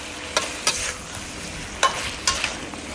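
Adobong tumbong in vinegar gets stirred in a pan, a handful of sharp scraping clinks over a soft, steady sizzle, close and clear with no talking.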